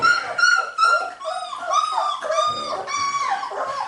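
A Berger Blanc puppy about two and a half weeks old whimpers and squeals in a run of high, wavering cries, close and continuous, with slight rustling underneath.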